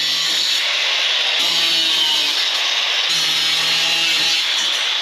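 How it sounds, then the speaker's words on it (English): A power saw cuts through metal tubing table legs, a loud, continuous high-pitched whine and grind held close up, with slight shifts in pitch as the blade works through the tube. "we're going to cut the bottom legs off so we can put our extensions in there"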